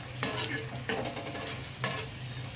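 Raisins and dry fruits fry in a pan for kheer, a steady close sizzle with three distinct stirring scrapes spaced about a second apart.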